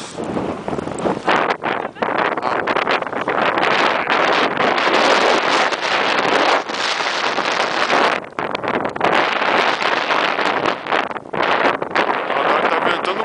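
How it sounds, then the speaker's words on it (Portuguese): Strong gusting wind blowing outdoors by a campfire, buffeting the microphone in loud, uneven surges with short lulls throughout. "Agora tá ventando um pouco"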